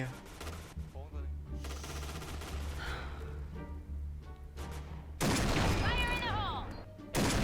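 Rapid bursts of video game gunfire crackle repeatedly, some loud and close, with other game sounds layered underneath.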